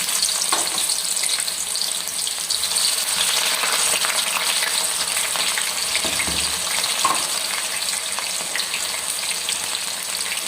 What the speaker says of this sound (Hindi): ऑयल हमने डाल दिया इसमें कढ़ाई में, तो ये गर्म है। इसके बाद हमने इसमें प्याज डाल दिया।